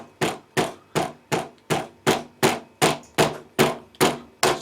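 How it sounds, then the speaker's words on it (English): A wooden mallet taps an Oxford Heated Premium Hot Grip onto the handlebar of a Honda CBR650F, with eleven evenly spaced, crisp knocks in a steady rhythm, close and clear, with no talking. "I'm going to get my trusty wooden mallet here"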